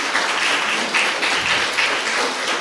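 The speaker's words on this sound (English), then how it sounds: "Please give them a big round of applause and" Audience at a CBSE inter-school debate competition applauding the participants: loud, steady, close-sounding clapping from many hands, continuous throughout with slight pulses in intensity.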